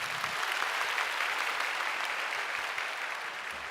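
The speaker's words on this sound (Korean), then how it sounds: "오늘 우리 세례를 받으신 우리 조혜나, 김이나 우리 가정을 우리 인사하실 때 박수로 축복해 주시기 바랍니다." A church congregation applauds a newly baptized family during a Sunday service, a steady wash of many hands clapping in a large hall, even and sustained throughout without any talk.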